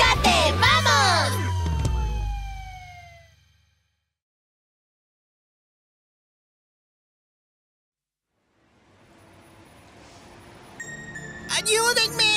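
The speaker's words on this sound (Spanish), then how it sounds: "Wiu, wiu, es mi sirena." Cartoon rescue vehicle siren wails in a few quick rising and falling sweeps, then stops into silence before other clanging cartoon sounds return.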